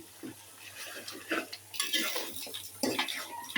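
A spoon adds ground mace and nutmeg to a cooking pot, with a few quick metallic clinks and scrapes against the rim in short bursts.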